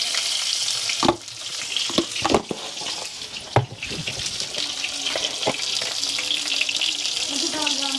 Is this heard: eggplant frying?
yes